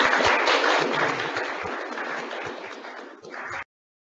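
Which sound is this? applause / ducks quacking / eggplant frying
applause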